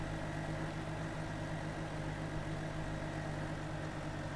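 Steady low idle of a tractor engine in Farming Simulator 2015 on the Bjornholm map, an unchanging humming drone with faint vibration, no voices over it.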